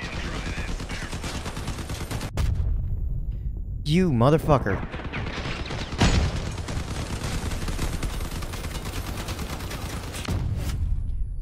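Heavy cannon blasts and rapid gunfire from vehicle combat in the game Crossout, loud booming bursts with a warbling whine in the middle, while a man swears over the fighting.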